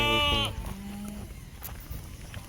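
Goats offered for sale at a farm, including a doe that has just kidded, give a loud, close bleat with a wavering tone right at the start, then the pen settles into low rustling and faint animal noise.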